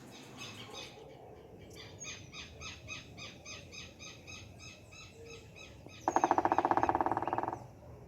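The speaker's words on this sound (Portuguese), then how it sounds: "Você conhece os pássaros que moram na sua rua?" Birds calling along a residential street in São Carlos: a run of repeated, evenly spaced chirping notes, then a louder, rapid buzzing trill close by near the end.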